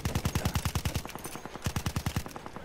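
Rapid automatic gunfire from Battlefield 1, with two loud bursts of evenly spaced shots separated by a short, quieter gap of scattered fire, all up close with no talking.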